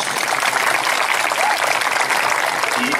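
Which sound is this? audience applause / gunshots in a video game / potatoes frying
audience applause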